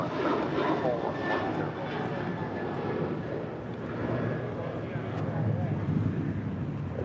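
Airliner engines roar steadily as the jet takes off from runway 25 right at LAX, a loud continuous rumble with wind buffeting, while radio voices talk over it throughout.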